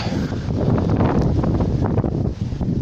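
Storm wind buffets the microphone at an outdoor plot with a cabin, a loud continuous rumbling roar with gusty surges and no voices.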